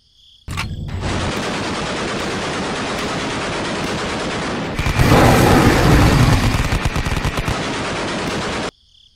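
Loud, close sound-effect gunfire from toy-figure fighters shooting at a dinosaur, a dense machine-gun burst of about eight seconds that thickens into heavier booming fire midway, then cuts off, while a faint cricket-like chirp hums around it.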